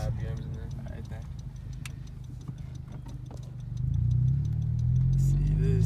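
A 2020 Honda Civic Si with a PRL cold air intake idles with sharp ticking clicks, then its engine note climbs and swells louder as revs rise toward the end, while people talk over it.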